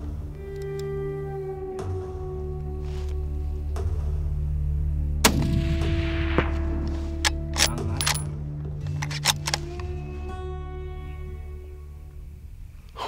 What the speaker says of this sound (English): Comes clear, I'll shoot him again.